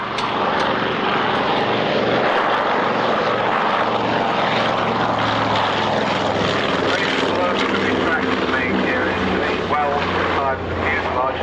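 A propeller aircraft powered by Pratt & Whitney radial engines passes at the 1998 Middle Wallop Army Air Corps airshow, its loud, steady droning roar sustained throughout.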